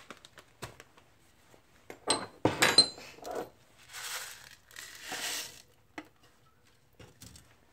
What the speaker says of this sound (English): So we're going to grind this in a mortar and pestle real quick.